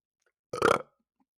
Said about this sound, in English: high quality burp right there in that microphone